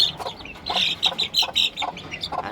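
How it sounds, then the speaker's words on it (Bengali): Young chicks squabble with one another, giving a rapid series of sharp, high chirping peeps in an uneven rhythm, close by and fairly loud, with no talk over them. "এই যে বাচ্চাগুলো দেখি ঝগড়া করতেছে একটা আরেকটার সাথে"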